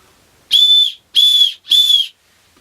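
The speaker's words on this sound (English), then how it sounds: "It's got a whistle on it." Three short, shrill blasts come from a small whistle built into the buckle of a Petzl Actik Core headlamp. They are loud and close, each lasting about half a second, with brief gaps between them.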